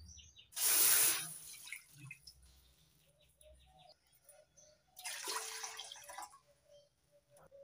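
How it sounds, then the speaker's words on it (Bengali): Two bowls of milk are poured into a pot for a soft carrot-filled rice-flour pitha: a strong splashing pour up close, then a second, softer and longer pour a few seconds later, with quiet background in between. "2 বাটি দুধ দিয়ে দিচ্ছি।"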